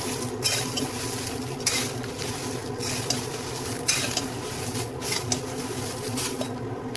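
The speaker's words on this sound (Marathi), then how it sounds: "आता आपण धणे भाजून घेऊया." Coriander seeds dry roasting in a pan for Marathwada-style black masala, with a steady soft rattle and scrape of seeds being stirred and tossed, broken by brighter scraping strokes every second or so, close up and with no voices.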